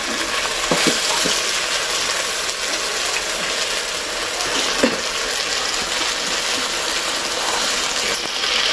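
Masala sizzles in a pan for gobi manchurian, a continuous loud frying hiss with a few scraping stirs and clicks throughout.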